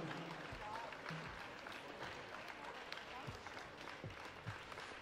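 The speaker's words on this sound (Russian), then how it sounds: "Мы провожаем вас аплодисментами." Faint, steady audience applause rings through a ballroom after a junior standard dance semifinal at a Moscow competition, with distant murmurs and a few louder thumps.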